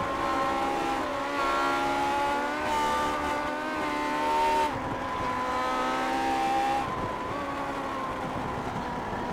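Race car at speed at the Nürburgring, engine droning with rising and falling pitch as it shifts and accelerates, loud and continuous with a brief tire squeal and no speech.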